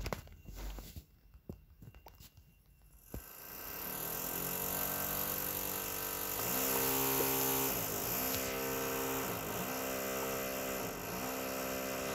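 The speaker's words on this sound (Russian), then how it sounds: "вот эти соседи никогда не могут закончить свой ремонт" Quiet rustling and knocks give way to a steady drilling whine from a power tool during neighbours' renovation work, continuous and muffled as if through a wall.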